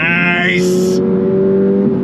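Engine note of a 2025 Toyota GR86 Hakone Edition sports car while driving, a steady close drone with stacked harmonics after a brief higher whine, loud and continuous for about two seconds without talk.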